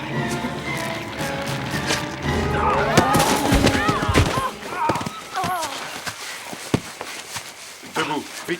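Gunfire in a French-dubbed Dinotopia TV episode: sharp, sudden cracks among a tense scene, with people talking and shouting over a busy backdrop.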